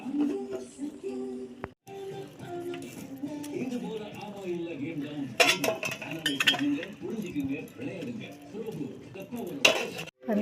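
Soaked rice for biryani being stirred in a pot, with metal utensil clinks and scrapes, while a voice talks over most of it.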